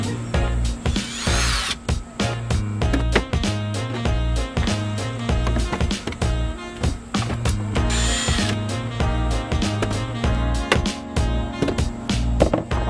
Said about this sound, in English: So I'm gonna go ahead and screw some holes and nail this one in also.